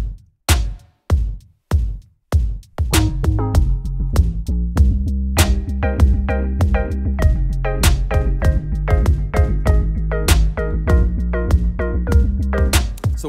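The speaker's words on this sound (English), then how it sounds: "the drum sounds with the effects, everything tweaked" A few isolated processed drum hits, then a steady sequenced drum groove with heavy effects and booming low tones, loud and continuous.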